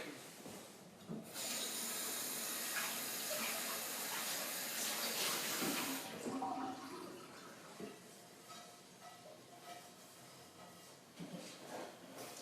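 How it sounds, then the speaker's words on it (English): Running water pours loudly from a tap over an iron skillet as it is rinsed out and rubbed clean for a venison scrap stew, first as a strong gush and then easing into quieter splashing and scrubbing. "We're going to wash out our iron skillet real quick."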